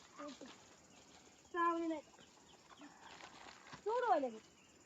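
Chickens being let loose outdoors give two short clucking calls, moderately close, between faint background voices.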